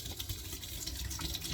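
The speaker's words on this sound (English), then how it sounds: "You're going to overflow the bottle with so much water that until the water turns clear" Tap water gushing into and spilling over the rim of a slim flat stainless steel water bottle during rinsing, a brief, steady rushing splash heard close up with no talking.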